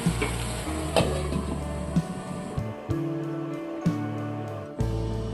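Prawns sizzle and fry steadily in a pan on the stove, about to be covered with a lid while they cook, with a loud, continuous crackle and a few sharper clatters along the way.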